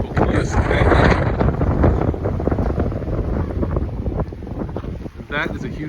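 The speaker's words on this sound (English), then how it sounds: "That is a huge gust of wind." A strong gust of wind buffets the microphone at Boquillas Canyon by the Rio Grande in Big Bend National Park, a loud, rough roar that swells, eases slightly and surges again over several seconds.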